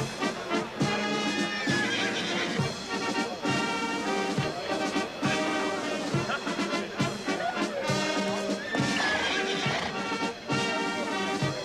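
A horse at an equestrian competition gives repeated loud neighs and whinnies over busy, dense background sound that continues throughout.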